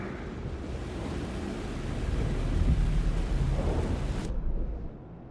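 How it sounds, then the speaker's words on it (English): Heavy rain pours with deep rolling thunder in Alan Wake 2, a dense, loud wash that swells and rumbles before cutting off abruptly near the end. "The rain never stopped falling."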